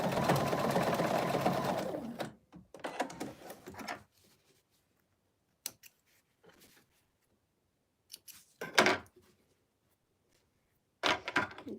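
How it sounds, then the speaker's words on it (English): A sewing machine runs a short burst of stitching across the hanger on the back of a fabric stocking ornament, then stops, followed by a few scattered clicks and handling sounds. "I'm just doing a little stitch right across the hanger on the back."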